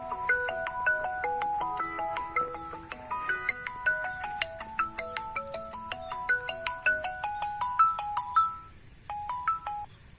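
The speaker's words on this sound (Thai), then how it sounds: "เดี๋ยวแป๊บหนึ่งเด้อโทรศัพท์มาจากไผโทรมา" A phone ringtone plays a repeating electronic melody, clear and steady for several seconds before fading, with no talking over it.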